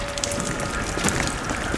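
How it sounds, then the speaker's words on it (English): In the Lies of P video game, water drips from a ceiling amid dense rain-like patter and ambient hiss, with scattered individual drops standing out over a steady wash. "Whether it's water dripping from the ceiling,"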